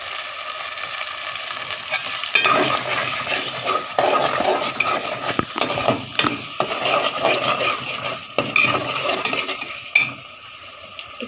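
Spices for biryani fry and get stirred in a pan, with a moderate sizzle under irregular scraping and clinking strokes of a spoon against the pan, no talk.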